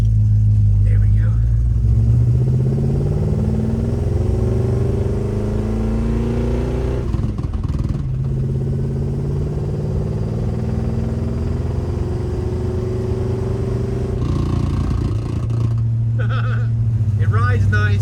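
A 1958 Plymouth barn find car driving down the road after 30 years sitting, a loud steady engine drone with gear-shift rises and dips, while someone talks over it.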